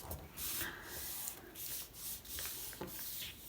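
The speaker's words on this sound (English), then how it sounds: "I'm flattening all my creases." Paper being pressed and rubbed flat along the creases of an origami boat, a soft continuous rubbing that swells and fades in several passes, quiet and close with no talking.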